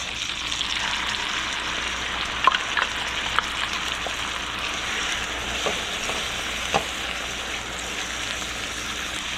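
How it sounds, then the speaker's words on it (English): Steady sizzling and crackling from a roasted red pepper sauce in a hot pan, with a few sharp pops and clinks of a utensil, no talking. "we'll go ahead and start pouring our sauce"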